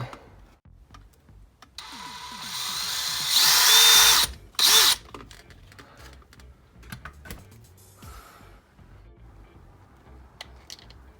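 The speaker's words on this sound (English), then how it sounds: "put another hole there, and then we're going to put a bolt through it" A power drill whines in two short, loud bursts, boring a hole for a bolt while fitting a Spektrum Firma 160 ESC into a 6S Arrma Kraton RC car, surrounded by clicks and handling noises.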